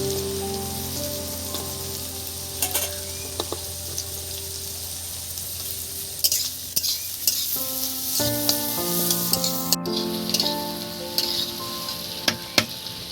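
Chopped garlic fries in a pan while a potato-egg pizza is being made, giving a steady close sizzle with occasional stirring scrapes and clinks, no talking.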